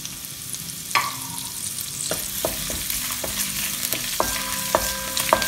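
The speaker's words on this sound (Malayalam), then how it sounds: "എണ്ണ ചൂടായി വരുമ്പം അതിലേക്ക് നേരത്തെ എടുത്തു വെച്ചിരുന്ന വെളുത്തുള്ളി, ഇഞ്ചി, കറിവേപ്പില എന്നിവ ചേർത്ത് കൊടുക്കാം" Garlic, ginger and curry leaves sizzle in hot oil for a Kerala-style egg curry, a steady close frying hiss broken by a few sharp stirring clicks, with faint tonal background music.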